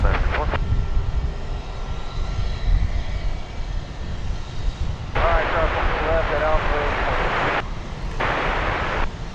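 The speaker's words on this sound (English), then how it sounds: "That's, I believe, American Flight 1232. It's going to Austin, Texas, an Airbus A319." An American Airlines Airbus A319 jet airliner at DFW Airport, a steady loud engine roar that swells and surges, with talk over it throughout.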